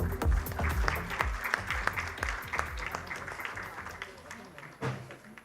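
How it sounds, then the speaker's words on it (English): Audience applause at a Green Fashion India international conference, greeting fashion collections: sustained clapping from a crowd, fairly distant, with a few sharper bursts and a voice talking over it. "A big round of applause for all the collections"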